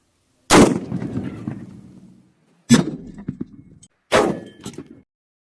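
Three booming .50 BMG rifle shots fired into an engine block, each a sharp, loud blast with a ringing tail, spaced about two seconds apart and heard alone.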